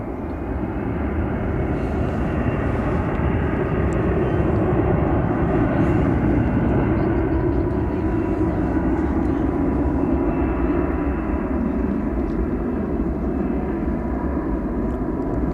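American Airlines Airbus A321 bound for Phoenix taking off at night from runway 18L at DFW Airport, a steady broad engine roar holding loud and even throughout, with no break or talk.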